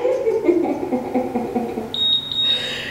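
An electronic workout interval timer gives a few short high beeps followed by a steady tone during an at-home total body sculpt session, over faint room sound.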